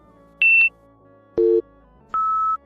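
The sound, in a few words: three beeps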